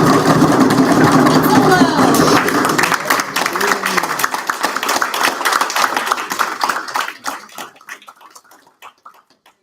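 Rapid drum roll at a university innovation competition awards ceremony, a dense continuous rattle under crowd noise that holds steady, then breaks into scattered claps and fades out toward the end.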